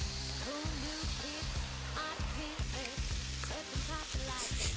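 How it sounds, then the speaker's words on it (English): Food sizzling and frying in a pan, a steady hiss running throughout, mixed with loud background music carrying a pulsing bass line. "I love the sound of sizzling."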